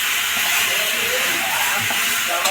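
Fried eggplant dropped into a hot pan for a spinach curry, a dense continuous sizzle and hiss heard close, with a brief clatter near the end and no talk.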